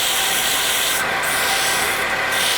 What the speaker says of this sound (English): you have to be very careful when you're sanding in these areas